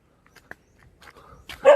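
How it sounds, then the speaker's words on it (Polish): A dog guarding a building in a Philippine village, giving a short bark and a brief yip at close range after a few faint scuffs. "Tu jest pies. Chroni chyba, broni ten budynek."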